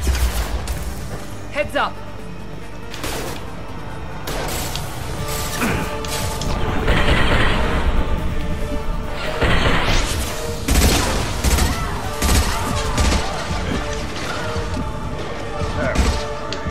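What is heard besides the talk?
gunfire in video game Mass Effect 2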